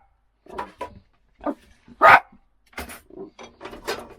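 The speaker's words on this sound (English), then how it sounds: "I don't know why you're barking." A pet dog barks in a home, several separate barks and yelps spaced irregularly, one louder and sharper than the rest, close by with quiet gaps in between.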